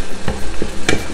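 Turkey with sweet paprika fries in a pot with a loud, close sizzle, broken by quick scraping stirs.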